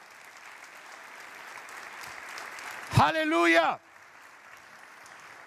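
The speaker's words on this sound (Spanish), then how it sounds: "Aplaude, aplaude, aplaude." A church congregation applauds, a continuous textured patter of many hands under a loud shouted exclamation from one voice, then the clapping carries on steadily at moderate level.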